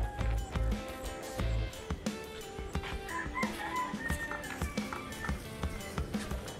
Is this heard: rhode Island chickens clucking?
yes